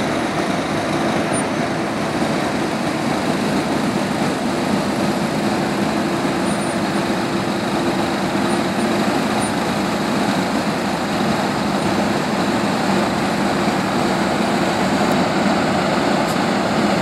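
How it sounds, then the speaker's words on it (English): A push truck straining behind a Calumet hydrocracker megaload as it turns onto U.S. Highway 12 in Lewiston, a continuous loud engine drone and roadway rumble that holds steady throughout. "You can hear that push truck behind it really straining."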